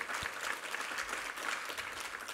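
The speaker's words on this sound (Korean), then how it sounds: "우리 하나님께 감사와 영광의 박수 올려드리겠습니다" A church congregation applauding during a Sunday worship service, a fairly quiet, even patter of many hands clapping throughout, with no voices over it.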